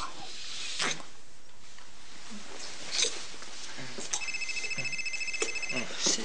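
A mobile phone ringtone chirps in a short, repeated electronic pattern near the end, set against room noise and brief voices.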